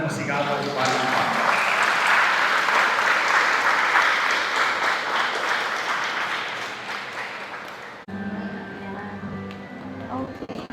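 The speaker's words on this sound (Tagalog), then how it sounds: "sa mata namin sila ng masigawan ng palakpak." Wedding guests applaud at a ceremony, a dense, loud wash of clapping that holds steady for about eight seconds, then cuts off abruptly, after which a voice begins speaking over a quieter room.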